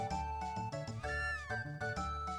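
A cat meows once in the Chrono Trigger video game, the brief chiptune mew rising over the game's steady looping music.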